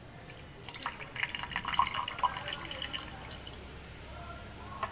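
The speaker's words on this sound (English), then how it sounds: "But if I use a little bit of care, I can pour off the liquid" Liquid poured carefully off sand from a lab beaker, leaving the solids behind: a stream of small drips and trickling splashes, close and fairly quiet, with no talking.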